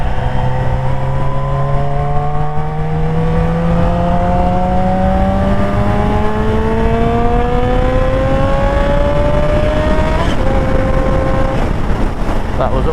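A fast-accelerating motorcycle ridden on the road, its exhaust note climbing steadily through the revs in one long continuous pull, loud and close with steady wind and road noise underneath.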